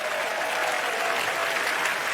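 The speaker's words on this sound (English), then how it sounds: "Give him a huge round of applause." An audience applauds steadily for about two seconds, a dense even clapping from a large crowd at a talk event.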